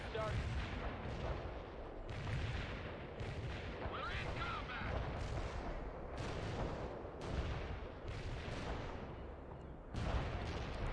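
Mortar fire in the game World in Conflict booms repeatedly at a steady rhythm, heavy thuds rolling over a dense, continuous battle rumble with faint voices underneath.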